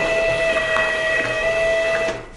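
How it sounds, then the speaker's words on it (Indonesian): A Kassen DT640 thermal label printer runs a Windows test print, giving a steady mechanical hum with high-pitched tonal whines, close and continuous, fading out at the end. "kita akan melakukan tes print Windows untuk memastikan koneksi sudah berhasil"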